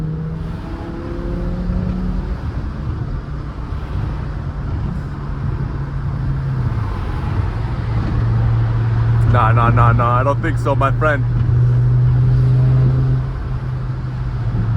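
A BMW E60 M5 cruises on a rain-soaked road, its steady low engine drone and tyre rumble running continuously while someone talks over it and another voice briefly joins in.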